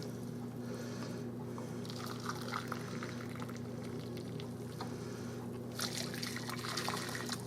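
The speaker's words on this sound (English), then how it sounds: "there's my 2 cups of water that I boiled, and it's still very hot." Hot boiled water, two cups, pouring and trickling steadily over a low background hum in a home kitchen, quiet and continuous, growing splashier near the end.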